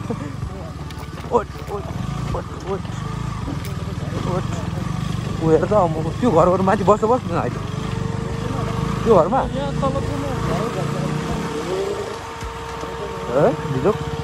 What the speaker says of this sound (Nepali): यो बगर हुँदै हुँदै हामीले अब बाइक कुदाउँदै अगाडि बढिरहेको थियौँ